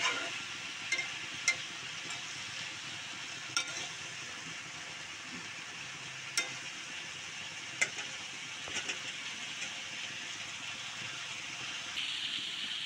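Mixed vegetables frying in ghee and oil in a pan, hotel-style Bangladeshi vegetable bhaji, giving a steady close sizzle and hiss with a few faint clinks of stirring throughout, no talking.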